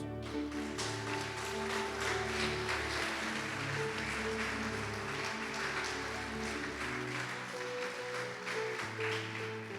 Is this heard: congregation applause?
yes